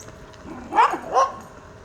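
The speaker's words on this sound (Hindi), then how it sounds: "ये देखें किसी का पालतू कुत्ता" Someone's pet dog gives two short barks a fraction of a second apart, clear and fairly close, heard while riding past on an e-scooter, with no talk.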